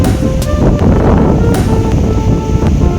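Strong wind gusting across an open hillside path near Ganpatipule on the green Konkan coast, buffeting the microphone with a steady, loud roar and rumbling low noise for the whole stretch, with no voices.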